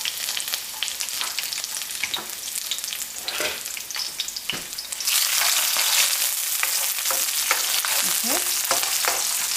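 Deseeded green chilies and curry leaves fry in hot oil, a close crackling sizzle that grows noticeably louder and denser partway through as more goes into the pan, with a single brief spoken word.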